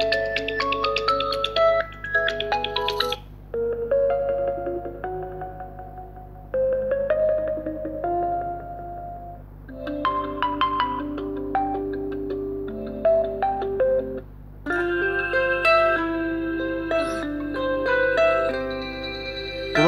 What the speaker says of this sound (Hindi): रिंगटोन्स को चला लेते हैं